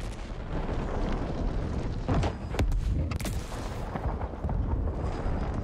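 Gunfire and explosions erupt in the video game The Ascent, a dense, continuous barrage of booms and shots with several sharp bursts standing out, loud throughout with no talking.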